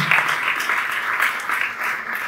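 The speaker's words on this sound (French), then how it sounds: "Applaudissez à vous-même" An audience at a Chamber of Mines gathering in Kinshasa applauds with steady, close clapping that pulses slightly throughout.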